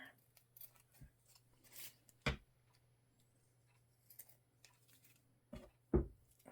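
Scissors trim ink-stained packing paper in a quiet room, a few crisp separate snips and rustles of paper spaced out over a low steady hum.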